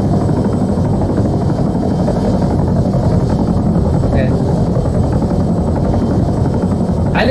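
Helicopter in the military video game Arma, a steady loud rotor and engine drone filling the whole stretch, with faint voice chatter mixed beneath it.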